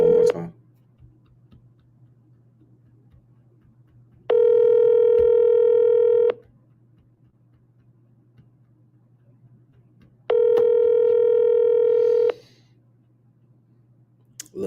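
Telephone on an outgoing call, a faint low hum and clicks broken by two long steady ringback tones of about two seconds each, spaced several seconds apart.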